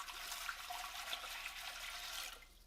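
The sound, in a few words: water being added to canning pot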